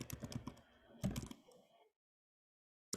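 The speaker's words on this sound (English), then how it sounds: "You can hear me type for a second." Rapid clicking keystrokes on a computer keyboard, close and fairly quiet, come in a quick burst of taps that stops abruptly before the clip falls silent.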